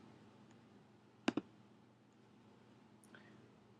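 A double mouse click on a computer link, two sharp quick clicks close together, near and clear against a quiet room hum, followed by a faint softer tick.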